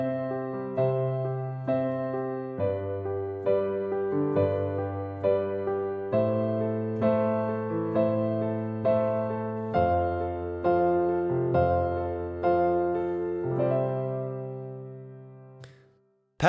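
A piano plays a two-handed chord pattern: low bass notes under repeated rhythmic chords in the right hand, steady and clear for about sixteen seconds without speech.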